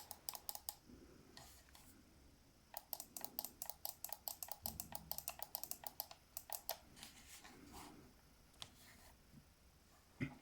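Rapid bursts of sharp plastic clicks from the digital tap triggers of a SCUF Impact controller, tapped in quick runs with brief pauses between, close and crisp against a quiet background.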